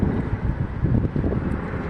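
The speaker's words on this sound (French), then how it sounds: "Yeah, this is mid-size, medium-size plane." A medium-size plane flies in to land over Valois Bay, a steady low engine rumble mixed with heavy wind buffeting on the microphone, with no talking.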